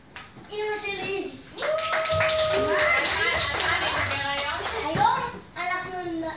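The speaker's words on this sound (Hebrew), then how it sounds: "גבירותיי ורבותיי, תפלו במחיאות כפיים" Applause from a small home audience, a burst of clapping mixed with children's excited voices and chatter throughout.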